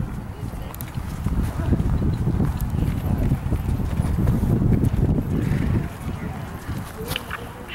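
A horse canters in a children's hunter show ring, its hooves beating a steady rhythmic clip-clop across the whole stretch while an announcer talks over the loudspeaker.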